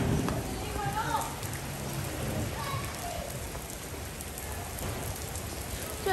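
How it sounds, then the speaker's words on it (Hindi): Steady rain falling outdoors during a monsoon-like shower, a continuous close hiss of drops pattering on surfaces throughout, with a voice speaking faintly underneath. "इतनी प्यारी बारिश हो रही है."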